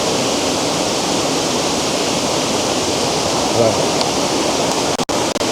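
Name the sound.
waterfall at Lower Campsie falls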